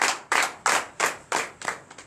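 A church congregation claps in acclamation at a night deliverance and prophecy service, six sharp rhythmic claps in steady unison, close and moderately loud with no talking.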